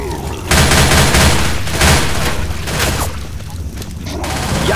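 Loud gunfire from the video game Left 4 Dead, with dense volleys of rapid shots and booming blasts close up, broken by brief lulls, and voices calling out amid the shooting.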